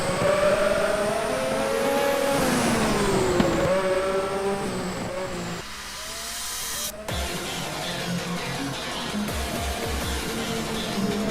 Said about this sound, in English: Cars begin to accelerate.